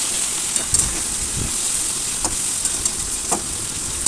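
Pointed gourd with turmeric and salt frying in a pan, with a steady, close hissing sizzle and scattered light clicks and scrapes as it is stirred.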